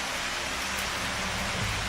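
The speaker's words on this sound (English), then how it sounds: "You come out at 1 o'clock in the morning and watch it rain." Steady rain falls through the night in a dense, even hiss of drops on surfaces, continuous and moderately loud with no voices.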